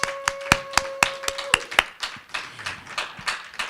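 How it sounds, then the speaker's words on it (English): Scattered hand claps from a small conference audience in a Las Vegas hotel, a few sharp individual claps at first thinning into light, uneven patter, with no talking. "So let's just give them a quick recognition with applause."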